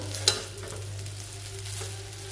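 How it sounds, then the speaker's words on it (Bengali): Chow mein sizzles steadily in a hot pan over a low flame with a constant low hum, a sharp scrape or clink near the start and soft stirring movements throughout. "লো ফ্লেমে 1-2 মিনিট এরকমভাবে নাড়াচাড়া করতে থাকবো, যাতে ভালো করে ভাজা হয়ে যায়।"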